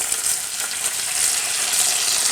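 Buckwheat fritters (hrechanyky) fry in a pan with a steady, fairly loud bright sizzle that holds evenly throughout, with no voices.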